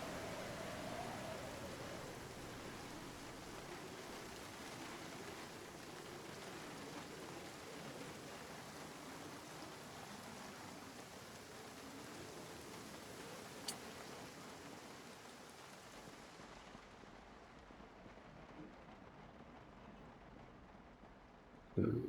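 Steady rain in the zombie survival game Project Zomboid, a dense even patter that continues unbroken and fairly faint, with one tiny click partway through and no talking.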